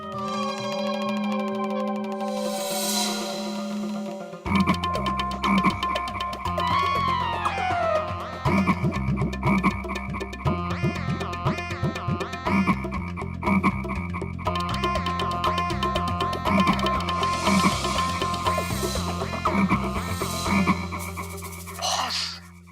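Repeated frog croaks in a bouncy, steady rhythm, loud and close, layered over musical tones from start to finish.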